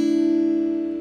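Acoustic guitar chord fingered with two fingers and strummed across strings 3 to 1 rings out as a single sustained, clear tone, slowly decaying, with no talk.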